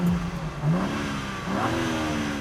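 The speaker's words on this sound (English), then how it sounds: "Let's give it some revs." A BMW G80 M3 xDrive Competition revving with its exhaust flaps closed, a muffled engine climbing and falling in pitch twice, loud and close throughout.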